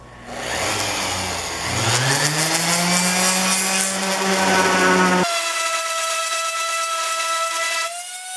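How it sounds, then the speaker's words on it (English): A power sander with 60 grit sandpaper works on a piece of wood, a steady loud whine with shifting pitch that cuts off abruptly partway, followed by a lower, smoother tone as the motor winds down. "I've got 60 grit on there, and I'm just gonna sand on this"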